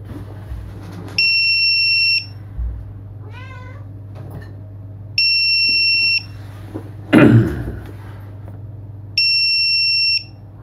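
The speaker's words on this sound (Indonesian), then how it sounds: "Ini buzzer loss finder ya." Three long, steady electronic beeps from a drone's lost-model finder buzzer, evenly spaced and loud, with a brief clatter of handling noise between them.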